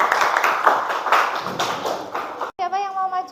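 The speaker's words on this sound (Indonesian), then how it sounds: "Tepuk tangan untuk kelompok Mbak Dila." Students in a classroom clap for a group that has just presented, a busy mix of hand claps and taps heard close, with children's voices underneath and a short tonal voice sound right at the end.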